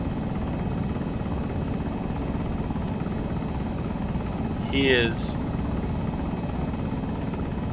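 Helicopter gunship in the military game Arma 3, a steady rotor drone and engine roar running throughout, with a brief burst of whining effects midway, under talk from a player.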